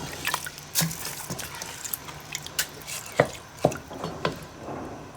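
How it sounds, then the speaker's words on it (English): Rice whisked around in water in a pot, giving a series of irregular wet swishes, clicks and splashes, close and moderately loud, with no talking. "Now I'm just going to whisk this around."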